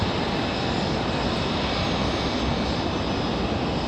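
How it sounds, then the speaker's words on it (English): A JetBlue Airbus A220 airliner touches down on the runway at Raleigh-Durham International, heard as a steady, broad roar of jet engines at a distance, continuous and unbroken with no talking. "There's the JetBlue A220. Touchdown over on the other side."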